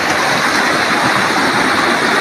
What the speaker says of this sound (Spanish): Mire la caída, tiene una caída más de 1 metro de agua.